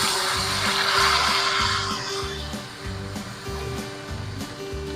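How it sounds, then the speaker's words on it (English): Ribeye steak searing in beef tallow in a hot pan, a steady loud hiss of broadband sizzle that eases slightly midway, running continuously over a low rhythmic background hum with no talking. "Nice sear happening there."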